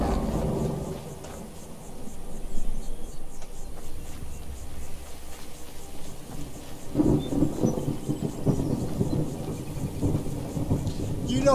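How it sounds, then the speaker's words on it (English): Thunderstorm with heavy rain in the game Skyrim, a steady wash of rainfall with deep rolling thunder swelling up in the second half, loud and close. "Now we might be having a storm come up."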